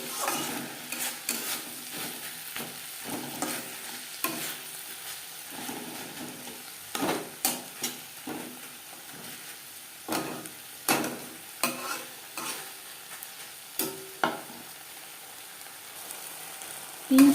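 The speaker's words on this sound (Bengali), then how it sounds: "মশলার সাথে পেঁয়াজ কলি নাড়াচাড়া করে নেব" Spring onion greens being stirred through sizzling spices in a pan for a Bengali fish curry, a steady soft fry with a run of scraping and clinking spoon strokes against the pan, no talking.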